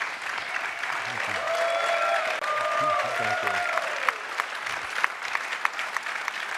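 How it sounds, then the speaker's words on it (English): Applause from a keynote audience at a developer awards ceremony carries on steadily while someone talks over it, then thins into scattered individual claps toward the end. "All right, a big round of applause."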